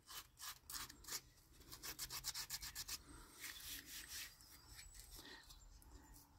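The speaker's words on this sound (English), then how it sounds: "putting it in the trench and just basically going through the whole trench and sanding it out" A wooden hiking stick's carved grip trench is hand-sanded in quick back-and-forth rubbing strokes, close and fairly quiet. The strokes form a brisk rhythmic burst in the middle before easing into softer scraping.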